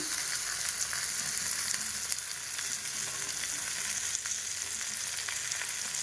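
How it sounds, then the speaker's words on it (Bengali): Tomatoes fry in a pan with turmeric and chili powder, giving a steady, close, continuous sizzle with no pause and no talking. "ভালো করে ভেজে নেবো একদম লাল লাল করে।"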